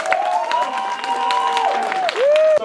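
Crowd applause and cheering at a furry convention improv show, loud and close, with a whistling or squealing tone sliding across it and a sharp rise toward the end.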